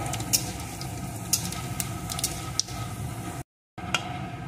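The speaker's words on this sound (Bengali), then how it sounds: "এখন আমি এর ভিতরে দিয়ে দেব শুকনো লঙ্কা, একটু 5 ফোড়ন। ফোড়নগুলোকে সুন্দর করে ভেজে নেব।" Dry red chillies and five-spice tempering frying in hot mustard oil, a steady close sizzle with soft crackles and pops, briefly cut off near the end.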